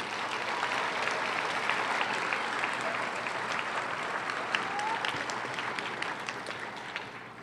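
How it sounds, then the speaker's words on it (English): Sustained applause from a large audience at a 2012 high school graduation ceremony at Kubasaki, steady and dense throughout with a faint murmur beneath. "I would ask that we give a round of applause to everyone that's been involved in each one of those"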